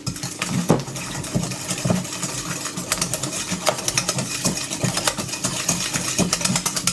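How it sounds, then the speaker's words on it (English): Whisk clattering rapidly in a bowl while sugar is mixed into custard tart filling, a busy run of metallic taps and scrapes, close and fairly loud, with no talking. "Give it a good old whisk, get it all mixed in."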